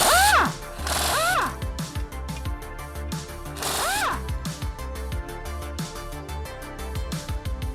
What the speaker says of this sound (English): you gotta remove 8 of the flywheel bolts,